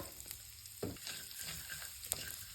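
Soft sizzling of chili powder and asafoetida frying in hot oil for a guava curry tempering, with a few stirring scrapes and clinks over a steady crackle.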